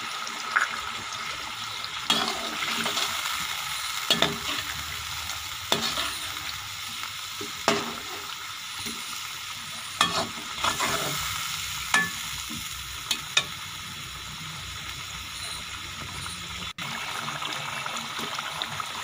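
Garam masala and ground spices sizzle in a pan for whole masoor biryani while a spoon stirs and scrapes at intervals, a steady close crackle broken by repeated clacks.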